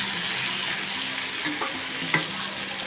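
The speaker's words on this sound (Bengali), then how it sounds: "এখানে হচ্ছে টমেটো, পেঁয়াজ, রসুন, আদা আর কাঁচা লঙ্কা, এই টোটালটাকে ভেজে পেস্ট করতে হবে।" Tomato, onion, garlic, ginger and green chili fry together in a pan for a butter chicken base, giving a close, steady sizzle with a few stirring scrapes and clinks and no talking.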